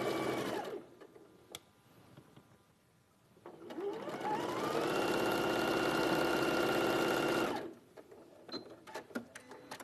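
A sewing machine chain pieces a quilt: after some quiet handling sounds, the motor spins up and runs in a steady, fast whirring hum for about four seconds, then stops, followed by light clicks and handling noise.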